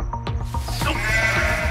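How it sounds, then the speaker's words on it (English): Sheep at a zoo bleating loudly and close by, a string of harsh, wavering calls that overlap and swell toward the end, with no talk over them. "One thing I do remember about sheep is they can be quite feisty, they can be quite grumpy"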